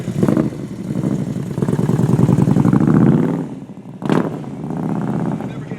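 A motorcycle fitted with a Vance & Hines header, CFR mufflers and a stage 4 kit idles nearby with a steady, throbbing exhaust rumble that swells, dips, then surges briefly before settling back.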